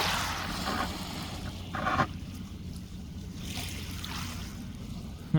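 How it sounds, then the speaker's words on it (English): Water swishes and splashes in uneven strokes, with a couple of brief louder dips as a paddle pulls through close by. "sounds like he's paddling now."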